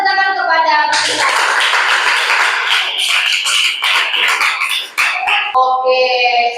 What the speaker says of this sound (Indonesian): berikan tepuk tangan kepada kita.